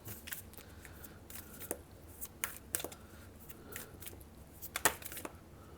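Tarot cards being shuffled and drawn for a reading, heard as soft, close riffling and snapping card sounds in irregular short bursts, quiet overall with sharper flicks near the end.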